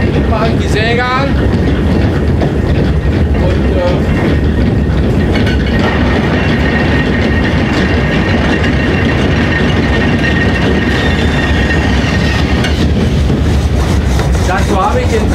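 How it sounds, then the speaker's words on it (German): An old mechanical saw at a historic German sawmill, driven by belts and cast-iron gears, runs loudly with a heavy rumbling clatter and a sustained whining tone, while someone speaks briefly over it. "Machen die Säge an"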